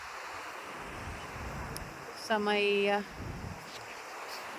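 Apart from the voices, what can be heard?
seashore waves and wind while walking on beach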